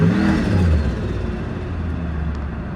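A car engine with slipping transmission clutches revs briefly, then settles into a steady, dull whir with a faint low hum. It is close and fairly loud, and no gear catches.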